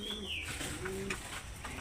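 Pigeons cooing in a loft alongside newly separated young birds, soft low coos with a few higher chirps, fairly close over a faint background hiss.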